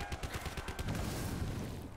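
An SMG fires in Black Ops 4 Zombies, a rapid burst of close, punchy shots that blurs into a rumbling wash of gunfire and explosions.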